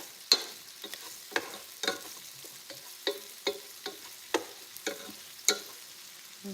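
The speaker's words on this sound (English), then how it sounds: "In the meantime, we've got the onions going." Onions frying in oil in a pan while meatballs rest nearby, with a steady low sizzle broken by about a dozen sharp, evenly spaced scraping strokes of a spoon or spatula, close and fairly quiet, with no talking.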